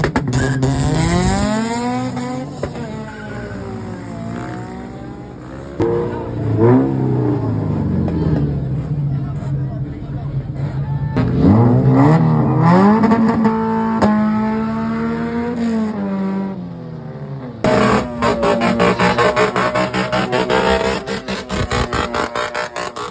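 At a street car meet, a diesel car and a Honda Civic rev hard and race, their engines rising and falling in repeated loud sweeping pulls, with occasional voices and crowd noise around.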